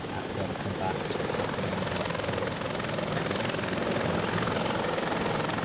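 Merlin and Wildcat military helicopters spool up. A loud, continuous rotor and turbine drone fills the whole stretch with a steady chopping texture.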